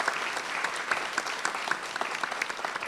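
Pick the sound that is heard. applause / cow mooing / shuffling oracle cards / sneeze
applause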